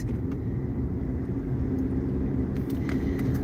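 A car driving through town in backed-up traffic, heard as a steady, heavy low engine and road rumble from inside the vehicle, constant and fairly loud, with faint higher clicks near the end.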